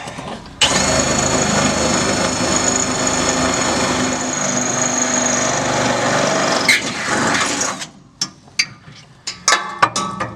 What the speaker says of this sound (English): we're going to locate the holes here and drill up